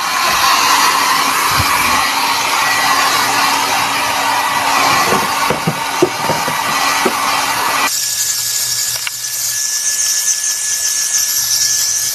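A loud, steady blower roars continuously with a high whine while drying a washing machine motor, shifting tone partway through, with faint clicks and no talking.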